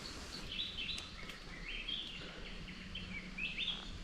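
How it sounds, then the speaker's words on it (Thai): Several birds chirp and call in the open countryside, with repeated short high tweets over a faint, steady outdoor background. The calls are quiet and sound somewhat distant. "ทางนี้เสียงนกนะแซวๆอยู่"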